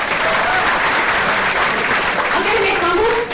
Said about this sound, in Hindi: ये मैं इनके लिए एक बार तालियां बजा दें।